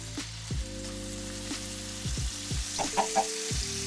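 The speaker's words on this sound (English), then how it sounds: "Oh, it's sizzling." Chicken sizzling in a frying pan with bacon fat, cooked to an internal 165 degrees: a steady soft crackle and hiss of frying close by, with a few clinks and stirring noises and no talk.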